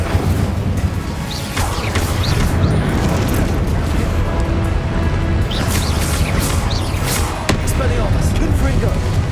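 An Incendio fire spell is cast in Hogwarts Legacy, a loud, dense whooshing roar of flame with repeated bursts and crackling impacts over a constant rumble.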